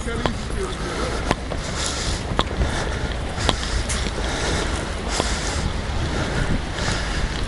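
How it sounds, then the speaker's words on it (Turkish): Strong wind buffets the microphone in a constant rushing roar during an evening snowfall in Yozgat, Turkey, with occasional sharp gusty thumps. "Rüzgarı şuradan görebiliyor musunuz bilmiyorum. İyice esiyor"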